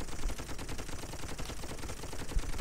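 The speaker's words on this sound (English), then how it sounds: "On my machine gun now, blasting away." A toy soldier machine gun turret firing in the video game Toy Soldiers: a rapid, steady stream of shots, loud and continuous for the whole short burst.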